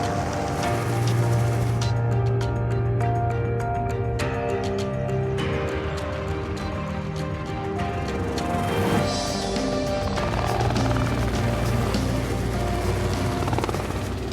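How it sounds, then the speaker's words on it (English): A helicopter flies low during a wildlife capture, pushing a group of kudu toward the mouth of a capture boma. Its rotor drone is loud and steady from start to finish, with no talking. "Chopper's just getting ready to push them over the threshold."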